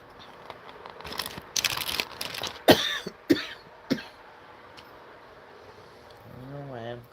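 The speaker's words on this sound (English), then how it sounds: "don't know why I'm coughing" A person lets out several short, sharp coughs in a row amid throat noise and faint crackly handling sounds, followed by a brief voice at the end.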